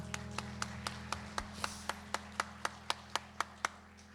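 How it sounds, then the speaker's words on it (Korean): A church congregation at a parents' prayer meeting claps in a steady, even rhythm, about fourteen sharp claps spaced roughly a quarter second apart over a low sustained background hum. "우리 하나님께 영광의 박수 올려드리겠습니다."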